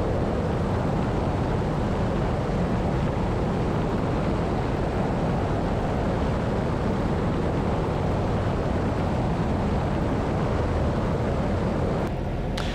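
Zenith light airplane climbing with full flaps, a loud steady engine and propeller drone mixed with broadband wind rush, constant throughout with no talking.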